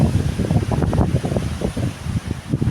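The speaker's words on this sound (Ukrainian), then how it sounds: "Такий вітер страшний, що вона ну, не чутно нічого." Strong storm wind buffets the microphone in continuous rumbling gusts, loud and rough throughout, with no voices.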